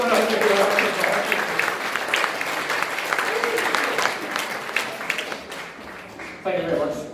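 Audience applause for a volunteer walking on stage at a talk, sustained broadband clapping from a sizeable crowd, with a voice speaking over it early on and again at the end as the clapping fades.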